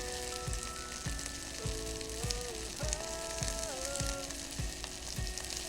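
Shredded seitan fries in a hot pan for a vegan pineapple teriyaki dish, giving a steady, close sizzle with recurring soft stirring bumps over a faint tonal background.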